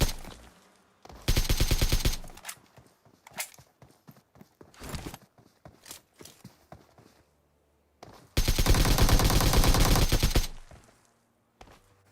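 Bursts of rapid automatic gunfire from the mobile battle-royale game PUBG Mobile, two long loud volleys separated by a stretch of scattered single shots and clicks, heard alone without talk.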